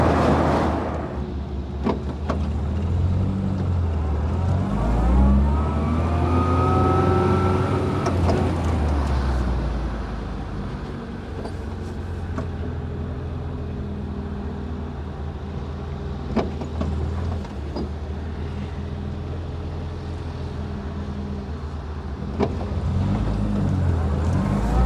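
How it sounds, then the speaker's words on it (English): An MG Metro with an A-Series engine pulls away in first gear, its whining gearbox rising in pitch as the car accelerates, heard from inside alongside engine drone, then settling into a steadier cruise with small knocks and creaks. "a getaway in first gear so you can hear the A-Series gearbox whine"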